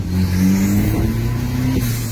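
An All New Chevrolet pickup with a six-speed gearbox and a newly fitted F55 turbo and intercooler revs up close by, engine tone rising and falling in a smooth, throaty drone with no speech.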